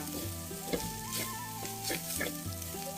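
Spicy field rat curry stir-fried with holy basil leaves in a pan, a steady soft sizzle with scraping stirs, quiet and close, while tonal music plays over it.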